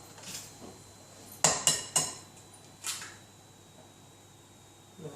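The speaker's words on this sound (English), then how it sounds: "because I'm cracking eggs" Eggs being cracked against the rim of a bowl while making a zucchini slice, a quick cluster of three sharp taps and clinks, then a single later tap, close up and fairly crisp against a quiet room.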